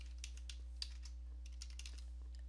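Someone types into a web browser's address bar on a computer keyboard, producing quiet, irregular keystroke clicks over a constant low electrical hum.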